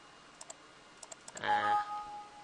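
Individual keys tap on a computer keyboard as an IP address is entered into router port-forwarding settings for a Minecraft Bukkit server, a handful of light, evenly spaced clicks followed by a brief louder rustle.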